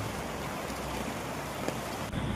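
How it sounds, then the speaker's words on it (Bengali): Steady outdoor rain falls across an open field, a dense, even hiss that continues without break and with no voices. "গর্ত খোঁড়াখুড়ি করে কাজ সম্পন্ন করতে করতে বৃষ্টি চলে আসলো।"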